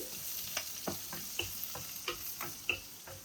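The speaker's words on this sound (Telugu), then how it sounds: "ఇలా పచ్చిమిర్చి వేసుకొని కాసేపు వేగాక ఎండు మిరపకాయలు చాలు వేసి ఒకసారి కలిపేసుకొని" Green chilies and dry red chilies frying in a pan, a soft steady sizzle punctuated by regular clicking stirs of a spoon against the pan, close and quiet.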